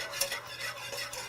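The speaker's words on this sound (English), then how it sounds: "you're just going to whisk it together" Gravy from a smoked chuck roast is whisked in a pan, producing soft rhythmic scraping strokes with faint sizzling beneath, quiet and close, with no talking.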